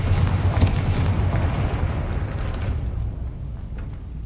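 A Confringo fire spell explodes in the Hogwarts Legacy video game, a loud, deep booming blast that rumbles and slowly fades away over several seconds.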